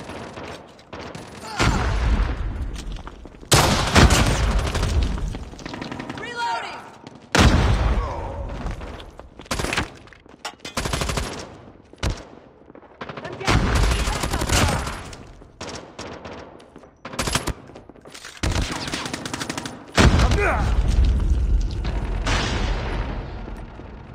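Heavy gunfire in the Call of Duty Mobile shooter comes in repeated loud bursts and volleys of automatic fire with booming impacts, broken by short pauses, while voices talk intermittently beneath the shooting.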